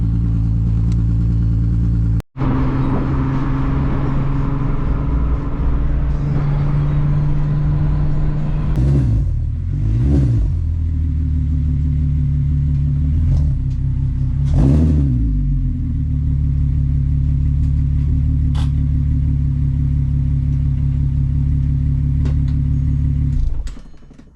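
A Volkswagen MK4 TDI diesel car engine idles loudly and steadily up close, with several sharp revs rising and falling partway through before cutting off at the end.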